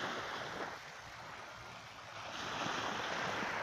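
Early-morning surf on a city beach in Hua Hin, Thailand, a broad continuous wash of waves with some wind noise, swelling slightly louder toward the end, no talking.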